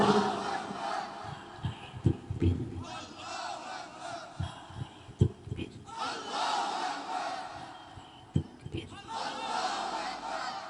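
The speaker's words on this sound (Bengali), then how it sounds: "এবার আকাশ বাতাস মুখরিত করে তাকবীর দিতে হবে" At an outdoor Islamic sermon gathering (waz mahfil), a large crowd shouts takbir in loud, repeated collective bursts, answering a preacher's call over a loudspeaker.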